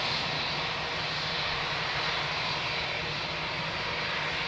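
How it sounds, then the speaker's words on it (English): A Boeing 777 airliner at Lisbon Airport gives off a steady, broad engine roar from some distance, a constant wash of jet noise with a low hum underneath. "And another 777."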